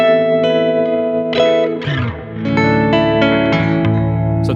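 A Chroma Console effects pedal running a glitch patch with recorded knob movements warps a sustained tone into distorted, stuttering, pitch-shifting textures, with a brief dip and swell partway through; steady, loud and close, no voices.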